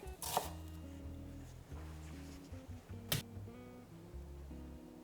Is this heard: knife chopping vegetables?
yes